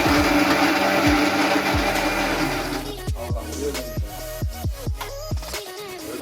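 Mixer grinder whirring as it grinds chillies for a fish head curry, a loud steady motor roar that gives way to short repeated pulses as it is switched on and off, heard up close.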